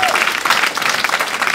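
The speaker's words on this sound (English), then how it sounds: "Give yourselves a big clap." An audience claps together in a brief burst of applause, a dense, even patter of many hands filling the room.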